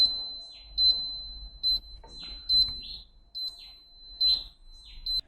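A household device near houseplants beeping repeatedly, a high thin electronic tone pulsing at regular intervals over faint room noise, with no talking.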